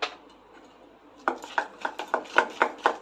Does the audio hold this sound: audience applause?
no